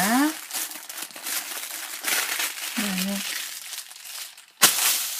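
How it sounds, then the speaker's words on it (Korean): A plastic vinyl sheet is smoothed flat on the floor and folded in half, giving repeated crinkling and rustling close up, with a sharp crackle near the end, under a woman's speech. "쫙쫙 펴진 비닐은 반으로 접습니다"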